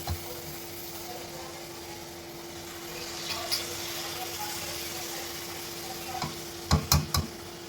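Palm fruit fritters frying in hot oil, a steady soft sizzle running throughout with a few sharper crackles and clinks near the end.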